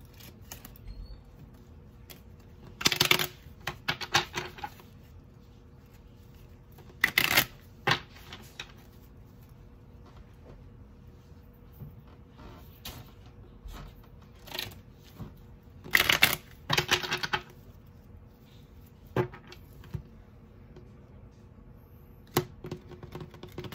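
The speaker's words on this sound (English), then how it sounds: "Card flipped." Tarot cards shuffled and flipped in a few short, sharp bursts of papery slaps and riffles, separated by long quiet gaps over a faint background hum.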